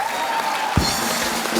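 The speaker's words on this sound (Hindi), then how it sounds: "तो ताली बजाओ, बोले क्या शायरी दी है।" Clapping from a studio audience at a comedy talk show, a dense continuous patter of hands with a brief voice cutting through in the middle.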